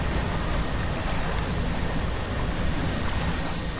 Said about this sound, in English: Getting a bit windy. A bit windy, a bit wavy